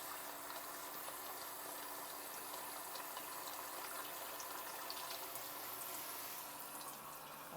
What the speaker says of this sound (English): let me get some cold water going over in here